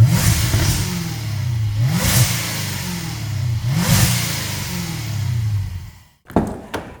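A Jaguar F-Type R roars through its big exhaust in three loud blips close behind the car, each rev swelling and falling back to a burbling idle, followed by a quick shuffle and clatter at the end.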